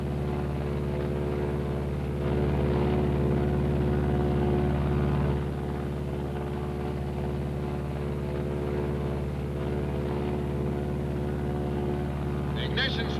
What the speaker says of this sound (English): The ignition switch is left on until the propeller has stopped turning.